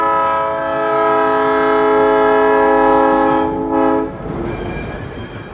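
A 70-year-old RS-3M diesel locomotive on a Maryland short line, sounding a loud sustained horn for about four seconds, then rumbling and clattering as it shifts and kicks cars.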